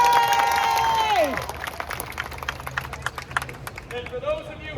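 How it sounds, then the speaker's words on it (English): An audience at a juggling show claps to vote for the knife trick. Scattered, fairly close claps follow a long drawn-out vocal tone, with a voice rising again near the end. "If you would like to see the knives, clap now."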